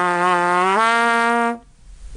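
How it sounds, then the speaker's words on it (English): A trumpet pedal tone bent downward without the valves and with a loosened embouchure: one sustained, buzzy low brass note that shifts pitch partway through, holds for about a second and a half, then cuts off. "Just slide down, loosen the embouchure, and smear the note down"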